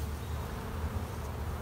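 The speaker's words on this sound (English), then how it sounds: "So there's a nice lot of young bees on here." Dense, steady buzzing of many honey bees crowding an open brood frame during a hive inspection, a close, continuous drone with no talk over it.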